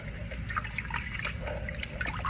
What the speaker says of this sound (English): Wash off the starch off the rice.